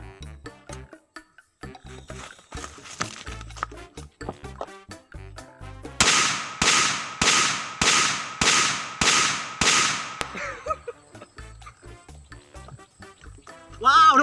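Firecrackers set off at the tip of a motorcycle's exhaust pipe burst in a rapid string of about eight loud, sharp bangs spaced under a second apart, with someone talking before and after the blasts.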